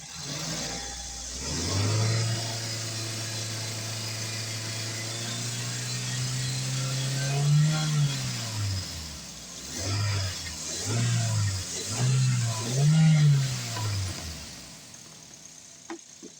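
A Suzuki Liana's engine running nearby, a steady idle hum with several revs rising and falling toward the end, then dying away.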